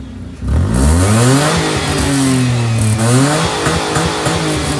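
A car fitted with a free-flow exhaust and an HKS muffler revs loudly up close, its engine note rising and falling through several sustained throttle blips with no talk over it.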